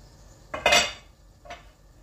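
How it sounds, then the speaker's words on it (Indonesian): A spoon scrapes and knocks inside a pot while bubur sumsum, a rice-flour porridge, is stirred, two short clattering strokes close up with quiet between them. "Kita aduk-aduk lagi bubur sumsumnya."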